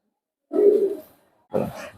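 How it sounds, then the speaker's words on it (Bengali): Two low, soft coos from an old-generation Khulna high-flying pigeon, each under a second long, heard close and alone against silence. "এই হলো আমাদের খুলনার খুবই পুরনো জেনারেশনের কবুতর"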